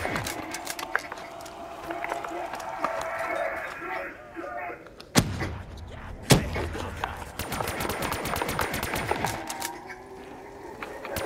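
Rapid bursts of automatic gunfire and sharp shots from shooting zombies in Call of Duty: Black Ops III, loud and continuous with a couple of heavy impacts and a player talking over it.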